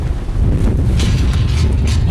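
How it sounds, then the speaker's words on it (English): Strong gusts of wind blow across an exposed hilltop on a Hawaiian ridge, buffeting the microphone as a continuous rough rumble with no one speaking. "it's actually so windy."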